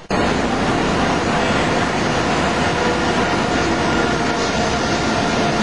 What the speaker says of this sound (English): This is the Fura train.